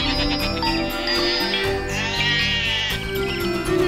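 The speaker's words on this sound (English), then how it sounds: "That's when she heard the goats with bells around their neck." Goats wearing neck bells in a children's story scene, bleating loudly and close by in several overlapping, wavering cries with no pause.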